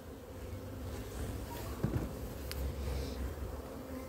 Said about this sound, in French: Là on a un essaim tardif